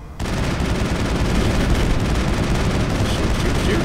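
Sustained rapid gunfire from the Mass Effect video game, a dense continuous burst of shots starting abruptly and running loud throughout.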